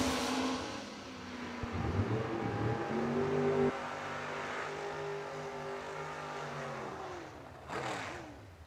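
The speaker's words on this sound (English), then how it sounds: "almost heads up with McKay's Camaro at 595, and that's over quickly" Drag racing cars, a Duster and a Camaro, launch and rev hard at a bracket nationals event, their engine tones climbing through the gears and then fading, with a brief whoosh near the end.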